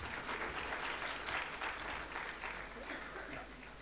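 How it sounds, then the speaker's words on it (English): Audience applause for foreign guests at an energy conference in Pakistan, a steady wash of clapping hands that holds at an even level for about four seconds without clear breaks. "A huge round of applause for our foreign guests."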